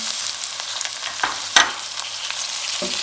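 Chopped tomatoes frying in a pan for a green chickpea curry, a close, bright sizzle with a couple of sharp spatula scrapes and a stir near the middle.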